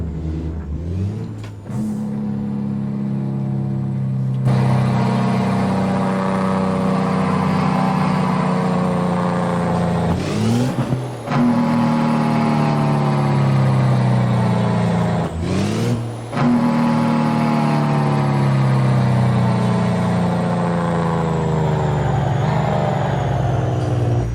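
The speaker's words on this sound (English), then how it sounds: "Slowly downshift it." Truck engine in American Truck Simulator drones loud and close, its pitch climbing and then dropping sharply at each downshift, with roughly four gear changes over a continuous, steady run and no speech.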